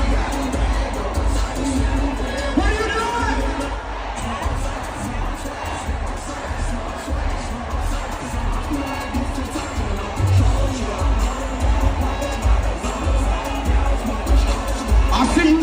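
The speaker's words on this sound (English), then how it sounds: "this is rocking and rolling and enthusiasm, not the milling about disgruntled crowd at a Trump rally" Enthusiastic crowd cheering at a political rally, loud continuous roar of many voices with shouts and whoops rising throughout, close and sustained.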